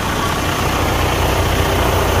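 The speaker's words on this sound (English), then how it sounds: "I'm going to show you the after the programming and everything, how the engine is running" A Detroit DD15 diesel engine, a 2019 unit fitted in a 2015 truck, idles at a steady, loud, even low rumble close by with no talk.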